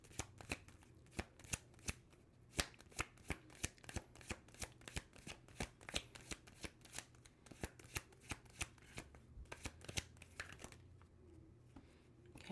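A deck of tarot cards is shuffled over and over, close and quiet, with a rapid run of crisp slapping riffles and flicks that continues steadily for about twelve seconds.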